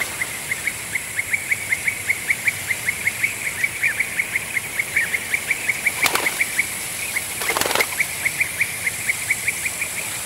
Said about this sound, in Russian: Голос зеленой щурки, часто издаваемый в полете, нежный и звонкий, слышен на большом расстоянии